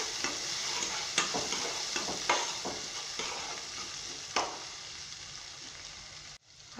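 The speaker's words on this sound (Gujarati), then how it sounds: "તો આપણો આદુ અને મરચું છે સરસ રીતના સંતળાઈ ગયું છે। તેમાં આપણે હળદર એડ કરીશું અને ચણાની દાળ છે તે એડ કરી દઈશું।" Ginger, chili, turmeric and chana dal sauté in a pan with a steady close sizzle, broken by several scraping stirs of a spoon.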